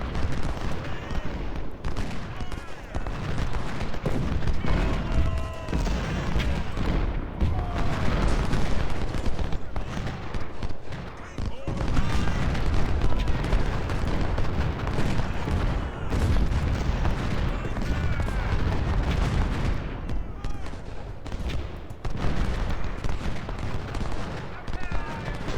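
Gunfire and artillery in a Civil War battle game at First Bull Run, dense continuous volleys of musketry with deep cannon booms rolling underneath, someone talking over it.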